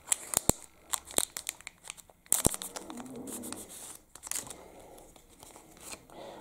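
Pokemon card pack wrappers torn open by hand, with sharp crinkling, crackling foil and tearing in quick irregular bursts, close and fairly quiet, no talking.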